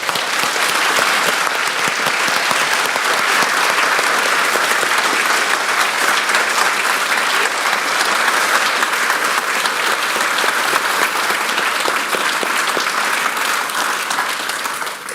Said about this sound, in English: if you can give them a round of applause wherever they are